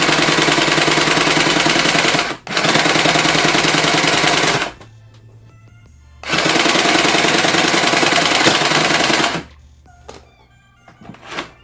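A cheap $5 Five Below toy sewing machine runs in loud, buzzing bursts of a few seconds each, stopping and starting with brief quiet gaps and small clicks between runs.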